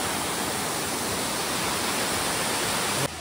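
Elephant Falls waterfall in Shillong, Meghalaya, roars as a steady, loud broadband rush of falling water, continuous and close, cutting off abruptly near the end.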